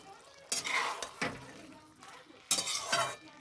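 A spoon stirs and fries spice paste of cumin powder, Kashmiri chili powder and green chilies in a pan for a potato, papaya and mung dal dish: close scraping strokes in a few bursts over soft sizzling.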